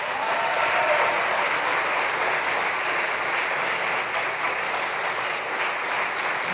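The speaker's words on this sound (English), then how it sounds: "have everybody give a round of applause for Adam, Derek, Chad" An audience claps steadily and loudly throughout at a coffeehouse concert in Lebanon, New Hampshire, a dense unbroken wash of many hands close by.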